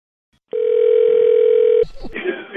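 A telephone dial tone rings out loud and steady for over a second, then cuts off abruptly as a line connects before a radio prank call.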